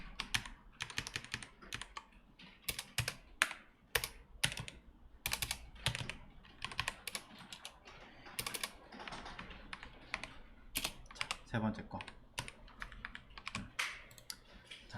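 Fingers type steadily on a computer keyboard while someone codes a jQuery image gallery: a dense, continuous patter of close key clicks with irregular bursts and short pauses, and almost no talking.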